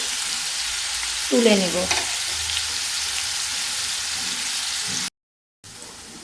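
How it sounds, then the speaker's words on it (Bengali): Paneer pieces frying in hot oil give a steady, close sizzle throughout, with a short stirring clatter early on and a brief voice near the end. "আমি পনিরটা হালকা একটু লাল করে ভেজে নেব।"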